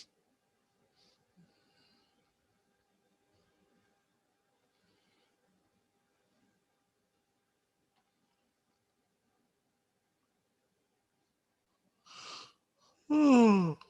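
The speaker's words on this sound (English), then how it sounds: "I can't stop yawning" A person's yawn is heard near the end, a brief breathy intake followed by a loud, drawn-out vocalized yawn that falls in pitch, close to the microphone after a long stretch of near silence.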